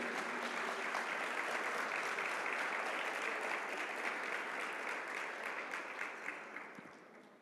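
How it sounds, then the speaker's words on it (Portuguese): A church congregation applauding Jesus, a broad, sustained wash of clapping that stays level for several seconds and then thins and fades toward the end. "Será que você pode aplaudir a Jesus por isso?"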